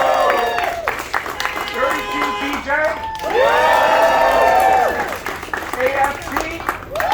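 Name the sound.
rally crowd cheering and applauding for local unions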